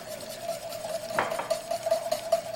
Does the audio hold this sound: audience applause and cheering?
no